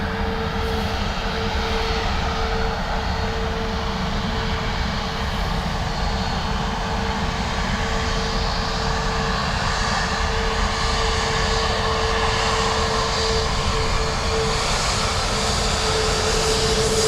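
A jet airliner departs Dublin Airport, its engines roaring steadily and loudly without a break, with a sustained tonal whine running over the broad rumble.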